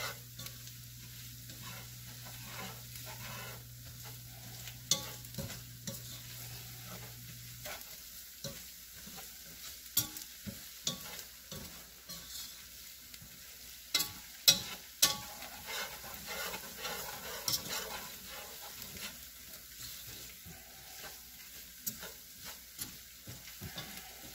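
A spoon stirs a butter-and-flour roux in a pot for chowder, with a steady soft sizzle and scattered scraping clicks, close and fairly quiet, alone with no talk.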